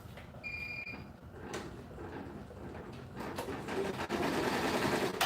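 An SWF 12-needle embroidery machine runs steadily, its mechanical clatter building louder toward the end, with a few thumps and clicks along the way and no talking.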